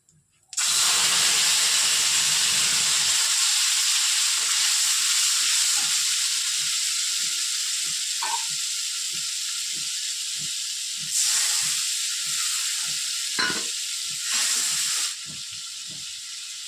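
Bay leaf, cumin, coriander, ginger and chilli drop into a hot pan with a sudden loud hiss that settles into a steady, bright sizzle, with faint intermittent stirring taps and brief louder flares of frying nearby.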